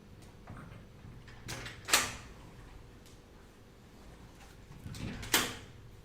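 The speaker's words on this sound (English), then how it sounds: "I'll let the cat out before she breaks the door down." A house door is opened to let a cat outside: two separate clunks of the latch and door, a few seconds apart, are quiet against a faint room hush, with no one talking.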